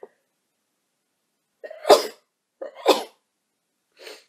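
Two sharp sneezes, each with a quick breathy lead-in, burst out close by, followed by a softer exhale in the quiet.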